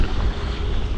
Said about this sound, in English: here comes a little gust going up to 11 and a half. Here comes some gusts.